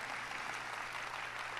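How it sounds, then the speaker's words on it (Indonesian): Congregation clapping in a church, a soft, even patter of many hands heard from a distance, brief and faint. "Tepuk tangan yang meriah bagi Tuhan."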